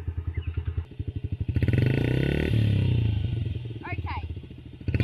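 A motorbike engine runs just after being started, with a steady, throbbing idle that swells into a louder revving roar before dropping back to a pulsing idle; a few faint clatters sound near the end.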